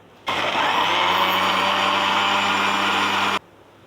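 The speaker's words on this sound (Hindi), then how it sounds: "और चलिए ग्राइंड करना शुरू करते हैं।" A kitchen blender grinds a banana milkshake with chilled milk, a loud steady whirring roar that starts abruptly, holds for about three seconds and cuts off sharply, with no talking.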